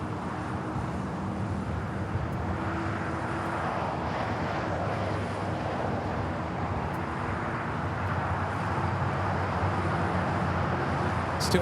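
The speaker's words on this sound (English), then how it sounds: "Lufthansa A380 should be making that right turn onto Kilo." A Lufthansa Airbus A380 airliner taxiing at LAX airport, with a steady distant jet engine rumble and hiss that holds evenly and sits under faint wind.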